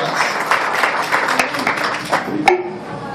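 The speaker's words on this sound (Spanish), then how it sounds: "ustedes se dieran un fuerte aplauso, cada uno de los que estamos aquí" An audience at a swearing-in ceremony applauds in a brief burst of mixed clapping, with some voices audible in the room.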